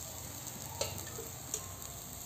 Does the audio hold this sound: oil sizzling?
yes